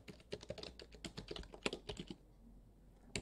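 Someone types a Linux terminal command on a computer keyboard, close and quiet, in quick irregular bursts of key clicks with a short pause before a final few taps.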